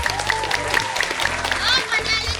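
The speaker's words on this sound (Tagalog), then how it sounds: "Palakpakan!" Audience applause at a live show, a steady wash of clapping and crowd noise with children's voices mixed in, running under music and singing.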